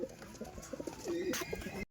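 Pet pigeons, including Giribaz, Panjabi and Naptha breeds, give soft low coos in short repeated phrases close by, with faint background noise and no talk.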